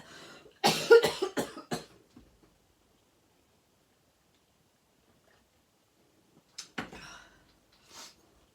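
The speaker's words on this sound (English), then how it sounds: "I'm sorry, I'm going to cough again." A close cough burst with a few quick follow-up hacks, then silence, and another brief cough several seconds later.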